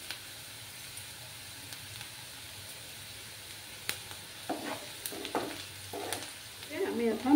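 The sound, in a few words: onions frying in a pan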